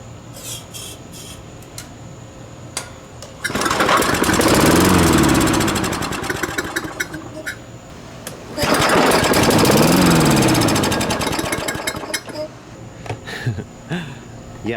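A Toro Recycler lawn mower with a Tecumseh engine is pull-started twice, each attempt bursting into a loud, close, rattling run of a few seconds before dying away, with quieter handling noises and brief talk in between.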